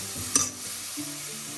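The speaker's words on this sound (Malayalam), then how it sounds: "ക്യാബേജ് ചേർത്ത് എല്ലാം കൂടെ ഒന്ന് മിക്സ് ചെയ്യാം." Violet cabbage being stirred into a hot frying pan for thoran: a single scraping stir near the start over a steady, even sizzle that continues to the end.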